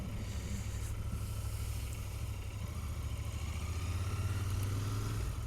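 A Royal Enfield Continental GT 650 motorcycle rides through a UK town, its engine a steady, close low rumble that holds throughout and swells slightly toward the end, with wind noise over it and no talking.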